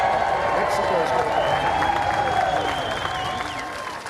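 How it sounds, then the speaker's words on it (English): A large crowd at a 2020 Trump campaign rally cheers and applauds in a loud, sustained roar of voices and clapping, with a speaking voice carrying over it before the noise tapers slightly. "The fact that a crowd cheers for it is even more outrageous."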